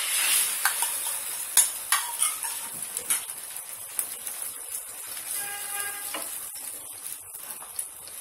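Egg sizzling and frying in a pan while cheese egg paratha is being made: a steady, moderate sizzle broken by several sharp stirring or spatula clicks, with no talk.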